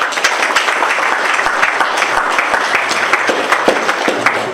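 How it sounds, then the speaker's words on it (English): Audience applause at a night-time gathering marking an 80th birthday during a Shiv Puran reading; steady, dense clapping with sharp individual claps standing out, loud and close, continuous throughout with no talk. "Let's give her a clap, please."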